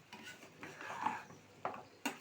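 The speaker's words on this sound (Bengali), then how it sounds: "এইবার আমি আর একটু ভালো করে কষিয়ে নিব।" A spatula scraping and stirring liver and potato curry in a metal pan, with a few soft strokes and two sharper knocks against the pan near the end, close and fairly quiet.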